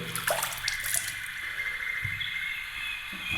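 Water trickles and splashes out of a Wald synthetic shaving brush, a short, close run of pouring and dripping that eases into a thinner flow.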